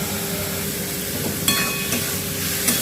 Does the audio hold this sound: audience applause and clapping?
no